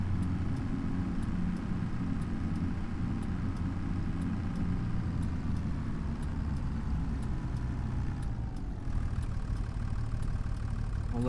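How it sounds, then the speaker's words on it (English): A car engine in the video game Farming Simulator 25 hums steadily at low volume throughout as the car passes, a constant drone with no clear rise or fall. "I'll let that car go."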